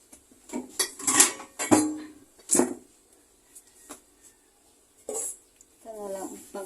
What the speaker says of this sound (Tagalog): Kukunin natin yung kaserola doon.